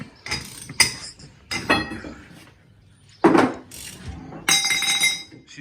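Sharp metallic clanks and ratcheting bursts as a seized axle nut or bolt on a Polaris RZR 1000 breaks loose, several loud close hits separated by brief pauses in a garage.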